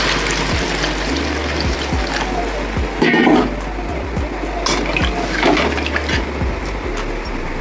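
Water rushes loudly and steadily into a pot of potato curry that has been cooking with spices and oil, a continuous splashing pour throughout.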